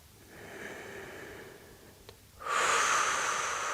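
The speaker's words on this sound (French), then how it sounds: "Insistez bien sur votre temps d'expiration pour bien détendre le dos." During a muscle-strengthening exercise for the abs and glutes, a person breathes in softly through the nose, then lets out a loud, long, forceful exhale close to the mic.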